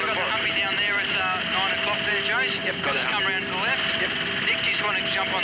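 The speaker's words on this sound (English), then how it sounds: "the police chopper is continuing aerial surveillance, making a wider sweep of the surrounding area" A police helicopter flies overhead during an aerial search, its rotor and engine drone running continuously under radio chatter and voices in the cabin.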